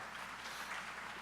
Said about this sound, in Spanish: Aplaude fuerte al Rey de Gloria